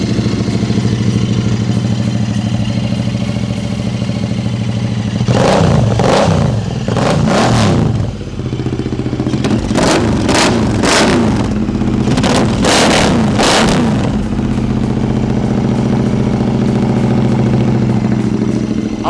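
A modified Royal Enfield Interceptor 650 motorcycle engine idles loudly up close, then revs in several sharp bursts before settling back to a steady idle.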